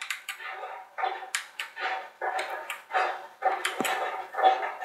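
A dog in the Skate 2 video game barks repeatedly in short, evenly spaced bursts, fairly loud and close, with no other sounds competing.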